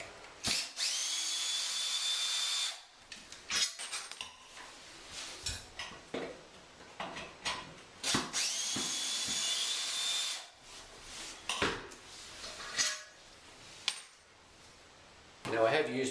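A cordless drill whirs in repeated bursts as it backs screws out of a shower pan, loud and close, with metallic clinks and short pauses between runs and a little talk in between.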